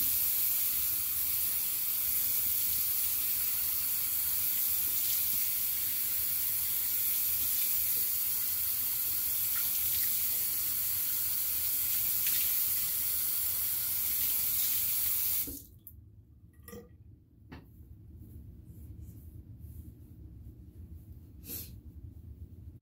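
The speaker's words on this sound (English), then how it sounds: "So I'm gonna rinse my face." Water runs steadily from a bathroom tap into a sink while a face is rinsed, a continuous close hiss that stops abruptly, leaving quiet with a few small splashes and drips.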